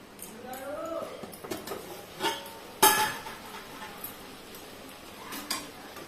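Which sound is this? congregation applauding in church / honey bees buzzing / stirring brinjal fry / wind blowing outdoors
stirring brinjal fry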